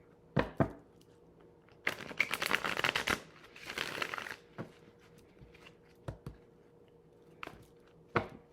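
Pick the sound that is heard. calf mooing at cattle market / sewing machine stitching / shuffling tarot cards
shuffling tarot cards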